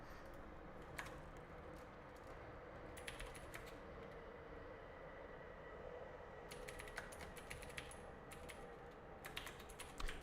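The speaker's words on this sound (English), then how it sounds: "Why am I typing spaces?" Steady computer keyboard typing runs through the whole stretch, with bursts of keystrokes and brief pauses over a constant room hum, close and moderately loud, no talking.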